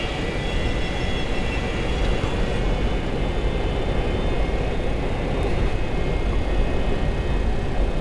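The jet engines of a 1976 DC-9 airliner roar steadily at takeoff thrust, a dense, loud, unbroken rumble with a high whine heard from inside the cockpit.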